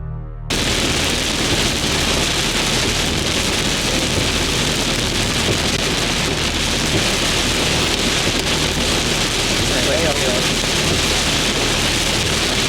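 Steady heavy rain pours down loud and close in a severe springtime thunderstorm, with low rumbles of thunder rolling underneath throughout and no voices.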